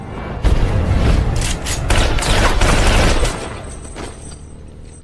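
Gunfire in a film scene where people are dropped off at a deserted spot and shot dead: a dense, loud burst of booming shots running for about three seconds, then fading to a quieter tail.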